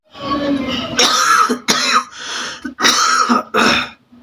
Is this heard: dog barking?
no